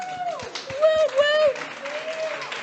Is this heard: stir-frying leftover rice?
no